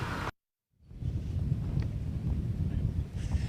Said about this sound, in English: we are dealing with very windy conditions here at the Deer Creek course